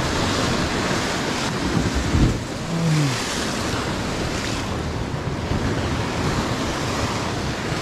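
Sea waves breaking on the shore at a fishing spot, a continuous loud roaring wash with heavy wind buffeting the microphone and a brief swell of surge midway, no talk.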